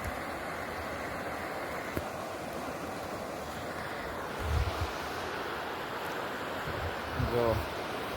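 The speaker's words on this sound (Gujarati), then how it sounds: "પાણી સારામાં સારું આવી ગયું છે ને વધે છે." A rising stream rushes in a steady broad wash of flowing water outdoors, with wind buffeting the microphone and a couple of brief louder thumps.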